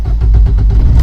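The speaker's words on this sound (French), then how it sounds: "La voiture démarre toute seule" A modern Morgan Plus 4 engine turning over and catching, a loud, close, low rumbling burst of cranking and firing that settles into a steady running throb.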